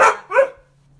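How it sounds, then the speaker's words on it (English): Two quick, loud barks from a nearby dog, one right after the other, then quiet. "if you hear any barking, that's going to be Astro"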